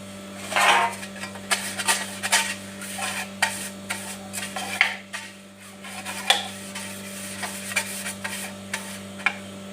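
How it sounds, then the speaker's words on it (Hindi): A brush spreads butter inside a cake pan, making soft, repeated rubbing and scraping strokes in an uneven rhythm, close up, over a low steady hum. "बर्तन लिया, अब इसको मक्खन लगा दूंगी"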